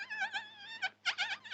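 A high, wavering bee buzz hums in short bursts, close and fairly faint, with brief pauses between.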